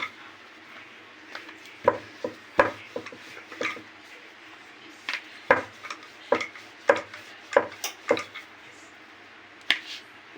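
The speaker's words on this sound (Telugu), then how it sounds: "అంతా ఈక్వల్గా రావాలంటే మనం ఇట్లా చపాతీ కర్రని జస్ట్ ఇట్లా రోల్" Chapati dough being rolled with a wooden rolling pin, a close series of irregular light knocks and clacks of wood against the board over a soft rubbing background, with no talking.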